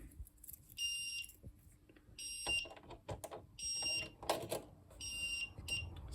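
A fire alarm sounds from a Twin Flex panel, repeating bursts of high pulsing electronic tones about every second and a half, moderately faint with handling noise and rustling between bursts.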